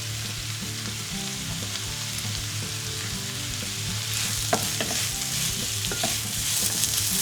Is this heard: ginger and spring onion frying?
yes